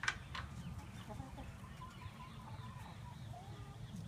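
Chickens cluck inside a henhouse while eggs are checked: scattered, soft clucks and calls over a steady low background rumble, with no talking.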